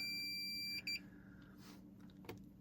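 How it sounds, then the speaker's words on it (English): A multimeter on continuity test gives a single steady, loud beep of nearly a second, then stops, leaving low background hum. "if it's beeping loud like that, you know you have a good connection"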